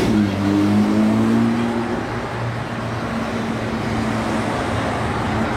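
A car drives past on a city street in Monaco, its engine hum steady and fairly close, with low traffic noise continuing in the background.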